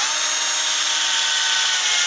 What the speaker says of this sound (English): So now I'm going to go back here and drill this one exactly the same way.